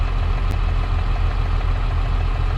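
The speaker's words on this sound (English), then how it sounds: "It's going to be a loud tractor." A loud, steady tractor engine from the video game Farming Simulator 22 drones continuously at a low idle-like rumble, close and unbroken, with no voices over it.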